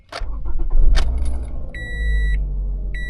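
A 2014 Toyota RAV4 engine cranks and catches after a key twist, then settles into a steady low idle, close and fairly loud, with a chime sounding twice over the running engine.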